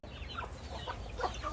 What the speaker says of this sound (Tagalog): look, the chicken, ha?